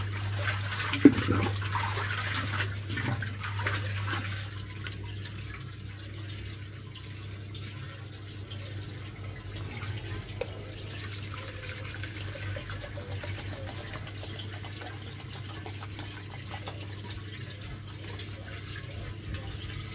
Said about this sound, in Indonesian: Kita aduk dulu.